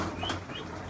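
Pigeons released from a loft give low cooing calls with light chirps and a hint of wingbeats, fairly faint against steady outdoor noise.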